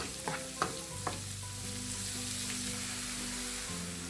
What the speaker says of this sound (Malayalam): ഒരു 2 തണ്ട് കറിവേപ്പിലയും കൂടി ഇട്ടിട്ട് നന്നായി വാട്ടിയെടുക്കാം.